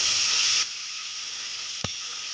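Ginger garlic paste frying with green chillies in a pan: a loud burst of hissing sizzle that drops after half a second to a softer, steady hiss, with a single brief knock partway through.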